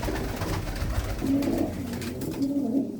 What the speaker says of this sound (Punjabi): ਆ ਫੜ ਕੇ ਤੁਹਾਨੂੰ ਦਿਖਾਣੇ ਆਪਾਂ ਹੁਣ ਇੱਕ ਕਬੂਤਰ